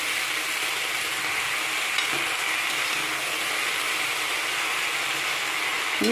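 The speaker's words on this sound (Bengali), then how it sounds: "কেটে রাখা বেগুন আর পুঁই শাকের পাতাগুলো দিয়ে দিলাম। আস্তে আস্তে করে নাড়বো।" Chopped eggplant and Malabar spinach leaves fry in a crowded wok, giving a dense, steady, close sizzling hiss with only faint stirring scrapes and no voices.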